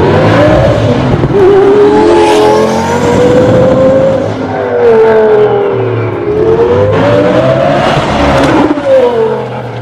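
A 2000-horsepower twin-turbo Lamborghini Gallardo engine roars loudly from close by, revving and pulling through rising and falling gears with a dense, continuous howl and no talk.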